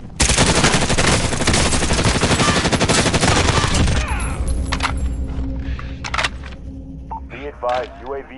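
Machine gun fire in the Warzone video game comes as loud, dense sustained bursts for several seconds and then stops. Scattered clanks, beeps and a voice follow in the quieter tail.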